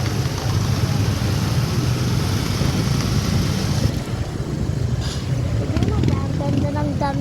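A motorized tricycle rides slowly through traffic, with a steady engine rumble and heavy wind buffeting throughout, and voices talk over it.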